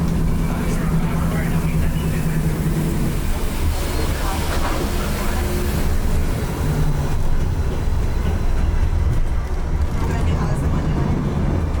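The Disneyland monorail glides along its track with a steady, continuous rumble and hiss from inside the car, while a voice speaks over the ride noise throughout.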